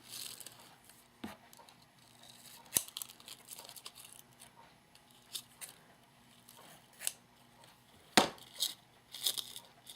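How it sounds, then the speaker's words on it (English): Scissors trim the cord ends on a decorated Halloween craft pencil, giving a few sharp, close snips and faint crinkling taps scattered over a quiet background. "And then we're going to go ahead and just trim our little ends here."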